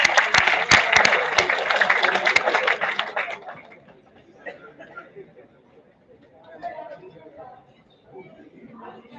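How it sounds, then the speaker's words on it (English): Loud, dense clapping from a crowd at an international conference fills the first few seconds, then dies away into quiet murmuring and scattered voices. "Let's have a huge round of applause for sir"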